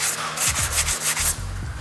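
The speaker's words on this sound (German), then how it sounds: "Aber hier muss ich erstmal richtig runterschleifen." Hand sanding on a fiberglass car body kit part for an Oettinger TCR Street Kit, heard as a close, loud, rhythmic scratchy rasp of quick back-and-forth strokes without talk.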